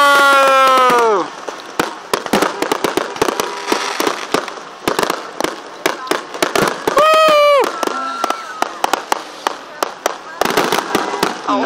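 Saddle Lake 2014 fireworks display: sharp bursts and crackling pops at close range, some with whistling rising tails, scattered irregularly across the clip, with people nearby exclaiming and chatting between explosions.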